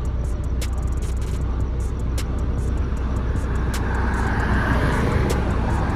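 Cars passing on a road in Las Vegas, a steady moderate traffic rumble with a slight swell toward the end and faint intermittent clicks above it.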